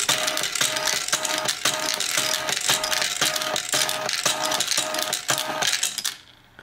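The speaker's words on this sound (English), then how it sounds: "make sure these motors have enough torque to push those M&Ms out of the way" Small motors in a homemade button-triggered dispenser push M&M candies out, giving a steady mechanical rattling whir with a repeating clicky pulse for about six seconds, then stopping abruptly.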